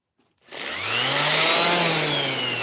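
A power sander working on wood whirs up from silence and then holds a steady, loud motor drone with a high whine. It sounds close and runs alone, with no voices.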